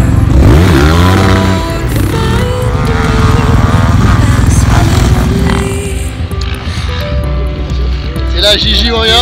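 Loud motocross motorcycle engine at a sand motocross track, a strong rumbling drone with rising revs near the start, running continuously under close conversation.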